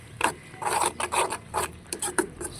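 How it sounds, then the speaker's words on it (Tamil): Broken eggs and onion being stirred together in a bowl, a series of short scraping, rasping strokes repeating in quick irregular rhythm, close and fairly loud with no voices. "இப்போ வந்து எல்லாத்தையும் சேர்த்து நல்லா மிக்ஸ் பண்ணிக்கலாம்."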